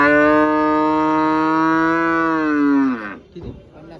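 A dairy cow, HF or Jersey, at a crowded cattle market moos loudly and close by in one long, sustained call for about three seconds, followed by brief quieter sounds.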